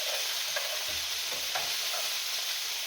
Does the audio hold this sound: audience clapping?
no